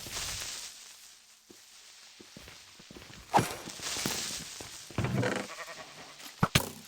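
Sheep bleats in a Minecraft-style game world, a few short calls mixed with swishing movement and footstep sounds, fairly close and moderately loud, with no talk over them.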